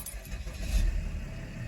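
A Mercedes W211 engine turns over and settles into a low, steady idle, heard close for a brief moment with a faint jingle of keys.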